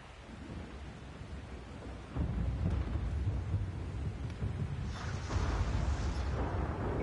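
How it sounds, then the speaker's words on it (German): Rain and rolling thunder in the Shadow of the Colossus video game, a steady downpour hiss that swells suddenly into heavy, deep rumbling thunder about two seconds in, with another surge later, no voices. "Ja, jetzt regnet's."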